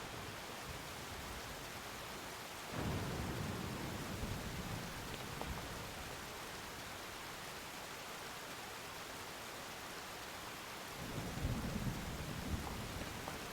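A rainy thunderstorm in the video game Zelda: Tears of the Kingdom, with steady rain hiss throughout and two low rumbling thunder rolls, one early and one near the end, distant and soft with no voices.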